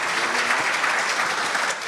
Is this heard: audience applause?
yes